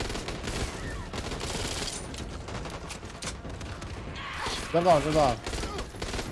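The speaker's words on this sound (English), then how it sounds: "I'm shooting them now." Gunfire in the video game Back 4 Blood sounds as bursts of shots scattered through the scene, moderately loud, with a voice speaking briefly over the action.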